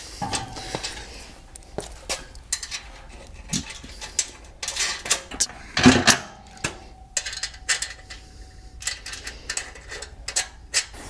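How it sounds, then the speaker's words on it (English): Wrench tightening a bolt on a tent trailer fender, a run of quick metallic clicks and clanks, close and irregular, with one louder knock midway. "Then we'll tighten it down with the 9/16."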